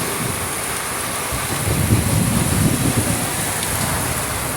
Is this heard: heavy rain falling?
yes